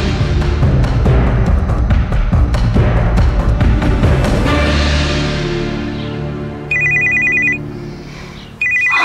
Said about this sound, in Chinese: 这个时间哪有人打电话来啊？